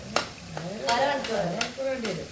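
Homemade carrot oil cooks in a pan while being stirred, with a soft bubbling sizzle and several distinct scraping strokes; a faint voice hums or murmurs underneath.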